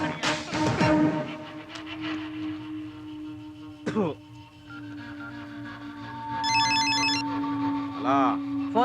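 A telephone rings indoors with repeated electronic bell tones beneath loud, overlapping voices and background noise, the ringing steady throughout and a high chirping burst appearing near the end.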